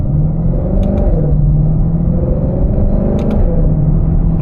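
A car engine pulling with its exhaust valves closed in quiet mode, giving a muffled, steady rumble heard from inside. The pitch rises twice with a brief shift between the pulls, and no one talks.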